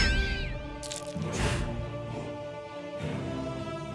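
Cats meow in the video game South Park: The Stick of Truth, a few high, wavering cries and short bursts over game background sound, fairly quiet and intermittent.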